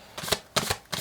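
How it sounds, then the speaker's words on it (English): Tarot cards are shuffled in three short bursts, crisp riffling papery sounds close by and fairly quiet. "shuffling for this card"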